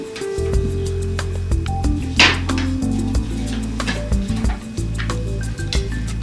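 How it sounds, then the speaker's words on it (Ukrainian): Food sizzling in a pan as part of cooking a chicken fillet schnitzel with a side dish and sauce, with steady frying hiss and scattered utensil clinks and scrapes close by. "Смажемо"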